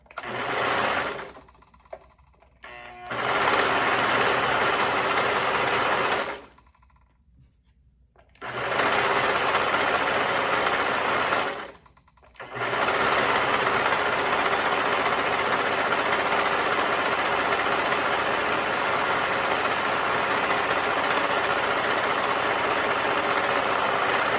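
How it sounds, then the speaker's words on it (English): A sewing machine stitches the curved edge of hoodie hood pieces in several long continuous whirring runs, close and steady, broken by two brief pauses and one longer pause. "we're going to stitch along the curved edge again with a 1/2 inch seam allowance"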